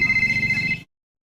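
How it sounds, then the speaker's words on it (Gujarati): A mobile phone rings loudly and close with an incoming-call ringtone of pulsing tones. It stops abruptly into silence. "ફોન આવી ગયો. હા ફોન આવ્યો."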